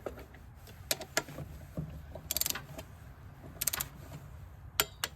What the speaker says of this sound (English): my torque wrench set at 7. Here we go. I'm gonna torque that to 7.